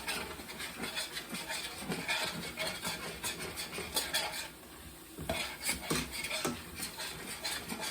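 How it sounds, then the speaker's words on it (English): A pan is deglazed while braising beef short ribs, with a utensil scraping caramelized bits off the bottom. Steady scraping and clinking of metal on the pan run throughout, fairly close, with a brief quieter dip midway. "I'm scraping the bottom to get all that flavor, those bits that caramelize on the bottom."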